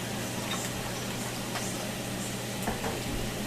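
Garlic frying in oil in a pan, stirred with a wooden spoon: a steady loud sizzle with soft scraping taps of the spoon, close by and without speech.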